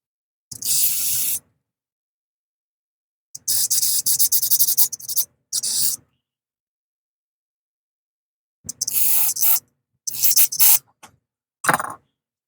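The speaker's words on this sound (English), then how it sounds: "A little bit of carb cleaner." Carburetor cleaner sprays onto a Cub Cadet snow blower carburetor in six bursts of close, harsh aerosol hissing, some long and some brief, separated by silent gaps.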